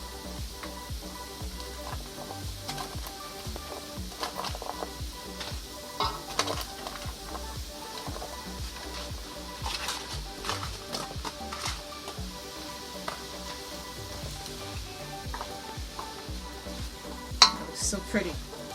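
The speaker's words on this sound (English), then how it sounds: "We're going to add our veggie." Vegetables go into a hot pan for brown stew chicken and are stirred, a steady close sizzle with frequent scraping and clinks from the utensil against the pan throughout.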